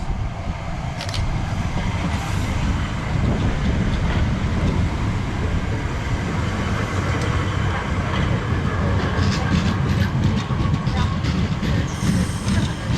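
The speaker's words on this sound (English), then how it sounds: "arriving in here is the service to London Charing Cross" A Southeastern train arrives at a station platform in Kent, rumbling in steadily with rolling wheel noise and occasional metallic squeals, loud and close, with no clear talk.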